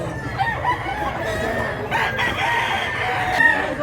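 A rooster crows amid a busy, noisy outdoor market background in Mantalungon, Cebu, its call rising over steady ambient chatter and clatter.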